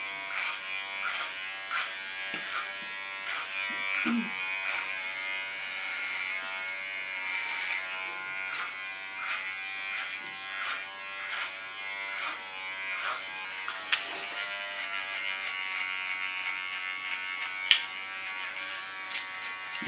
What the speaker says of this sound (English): Use my clipper as a comb again.